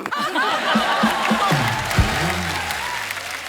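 Studio audience on a Hindi comedy talk show applauds loudly, with scattered chuckles and a voice talking over the clapping.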